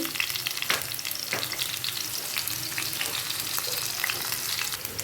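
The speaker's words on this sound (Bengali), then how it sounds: "পেঁয়াজগুলোকে আমি একটু হালকা গোল্ডেন কালার করে একটু ভেজে নিই" Onions fry in hot soybean oil, a dense, loud, crackling sizzle throughout with a few sharper spits and pops, no voices.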